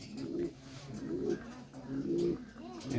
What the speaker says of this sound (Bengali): big size big size king কবুতর